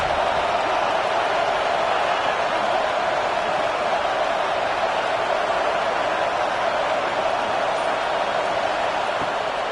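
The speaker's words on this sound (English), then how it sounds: "Listen to this crowd just shaking the girders of this place" A large stadium crowd at an Arkansas vs Texas football game roars steadily in a wide, distant wash of noise, sustained and unbroken from start to finish.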